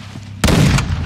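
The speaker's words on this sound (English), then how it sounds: "A drive-by shooting?" A single sudden burst of rapid gunfire erupts loud and close, lasting under half a second before fading, during a drive-by shooting in Call of Duty Modern Warfare 2 DMZ.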